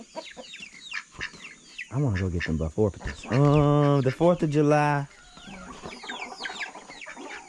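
Chickens cluck and chatter in the background on a farm while people talk nearby, the clucking audible between and beneath the voices.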